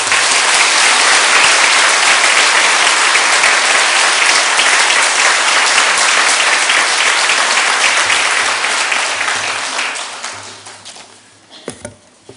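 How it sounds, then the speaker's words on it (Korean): A church congregation applauds to welcome an elder to the front: dense, loud, sustained clapping that fills the room, then thins out and fades to a few last claps near the end. "너무 수고하신 우리 장로님께 감사하는 마음으로 박수로 환영하겠습니다"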